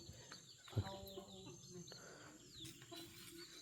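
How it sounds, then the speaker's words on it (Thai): Farmyard chickens cluck faintly in the background with a few scattered calls, under quiet outdoor ambience and a nearby voice. "นี่ไก่เฮากะ"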